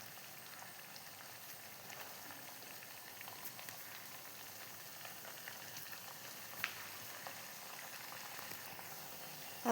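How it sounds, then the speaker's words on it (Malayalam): Bread and banana snack pieces frying in hot coconut oil, a steady, low crackling sizzle that runs without a break at moderate distance, with no talking. "ഇപ്പോൾ വെളിച്ചെണ്ണ കാഞ്ഞ് കഴിഞ്ഞാൽ നമുക്ക് അതിൻ്റെ അകത്തേക്ക് ഇട്ടിട്ട് വറുത്ത് കോരി എടുക്കാം"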